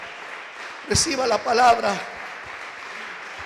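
A church congregation applauds during a Spanish-language sermon; steady clapping fills the background while a preacher speaks loudly over it.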